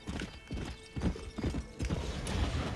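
A horse in the Red Dead Redemption video game trots with steady, loud clip-clopping hooves, close and rhythmic, with a brief whinny partway through.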